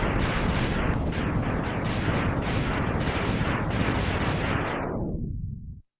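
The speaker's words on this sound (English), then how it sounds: "I'm exploding." A loud, dense explosion in the Mega Man X video game, a continuous roaring chain of bursts with repeated rumbling booms that holds for several seconds, then fades and cuts to silence.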